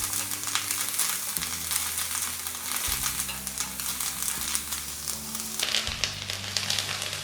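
Curry leaves sautéing lightly in a pan for curry leaf chutney, a steady close sizzle with soft crackle and tossing, with a low hum underneath and no talking.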